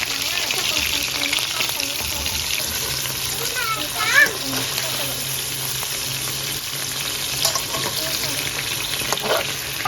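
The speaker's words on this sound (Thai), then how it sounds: "ขั้นตอนต่อไปเราต้องเทกุ้งกับปลาหมึกแล้วค่ะ เทเบาไปเลย" Shrimp and squid hit a hot pan for a Thai stir-fry with egg, setting off a loud, steady sizzle with stirring clatter. A voice talks faintly underneath throughout.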